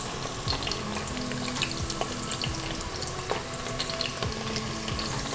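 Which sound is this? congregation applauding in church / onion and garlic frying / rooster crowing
onion and garlic frying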